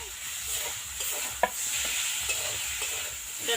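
Steady sizzling of green chili paste and cumin paste frying in a pan, with a spoon stirring and scraping now and then, close and continuous with no talking.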